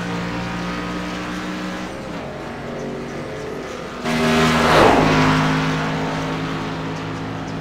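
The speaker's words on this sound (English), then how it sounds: "Fine day we have here today for truck racing." Racing truck engines in the iRacing sim hum with a steady tonal drone, then surge into a louder rising rev that slowly fades back. The sound is close and continuous, with no talk over it.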